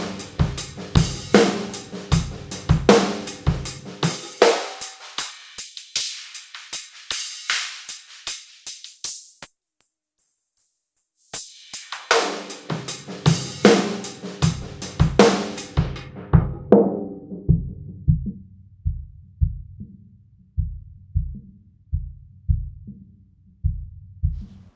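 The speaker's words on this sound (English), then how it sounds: "I'm going to play a drum loop and show you what a static filter sounds like." A looping drum beat plays through a filter that first thins out to bright highs, returns full, then is cut to a muffled low-end thump.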